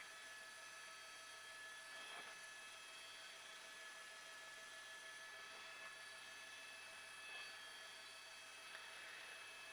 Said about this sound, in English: The sheriff's helicopter has taken over this pursuit.